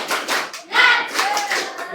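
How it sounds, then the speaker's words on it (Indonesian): A group of primary school children claps a rhythmic spirit-clap ice-breaker, with short bursts of clapping in a patterned beat and small voices mixed in. "Oke coba tepuk semangat."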